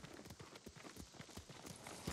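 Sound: horse hooves clip-clopping, from the video game Ghost of Tsushima

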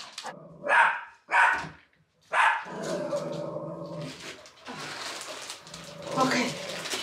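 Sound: dog

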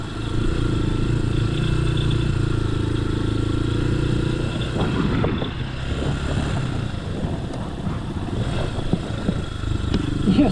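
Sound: Lifan KPX 250 motorcycle riding off-road enduro

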